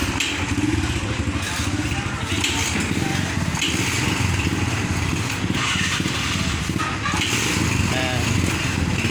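A motorcycle engine runs steadily close by, a rough mid-pitched drone with faint voices in the background.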